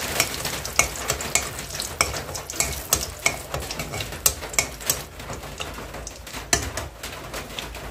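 Chilli tempering sizzles loudly in a kadai of dal, a steady crackling fry with sharp pops and spits scattered throughout, close by and without talk.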